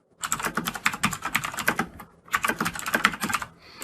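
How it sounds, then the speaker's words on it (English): Fast typing on a computer keyboard, two bursts of crisp, close key clicks in quick irregular rhythm with a brief pause between them and no voice. "we're just going to start typing in the values of the elements that should be stored inside of our array"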